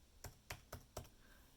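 Four evenly spaced, soft clicks on a computer keyboard, quiet and close, as an answer is typed.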